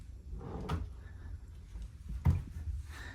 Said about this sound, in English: Pull out drawer.